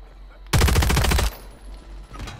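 Burst of rapid automatic gunfire in a video game shootout, loud and close, lasting under a second before dropping back to quieter game ambience with a faint later shot.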